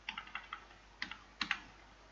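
Keystrokes on a computer keyboard while entering an HTML form field name, in short irregular bursts of light clicks, close and fairly quiet, with a pause in the middle.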